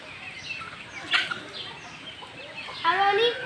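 Ducks and chickens being fed grass cluck and squawk nearby in short bursts, with a louder flurry of calls toward the end, over low background noise and faint voices.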